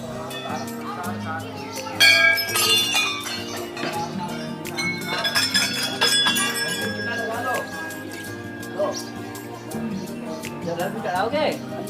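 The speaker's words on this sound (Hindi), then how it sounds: "और इसके थोड़ा सा आगे जाने पर लाइन से बहुत सारी घंटियां बंधी हुई हैं।" Many bells tied in a row at Bagnath Temple in Bageshwar, Uttarakhand, clink and ring in overlapping, irregular strikes, loudest around the start. Voices and crowd chatter run beneath them throughout.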